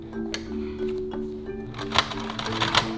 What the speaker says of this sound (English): just take your sewing machine and sew up the rest of the three sides